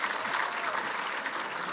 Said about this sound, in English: would you please give the panel a round of applause as they return to their seats?